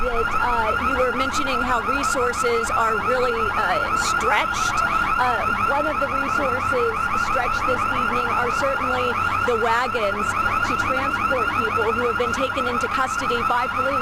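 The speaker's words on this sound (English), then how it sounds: "you can hear the alarms still going off" Business alarms blare continuously through a city street during unrest, several overlapping electronic warbling tones sounding loud and steady for the whole stretch while a reporter talks over them.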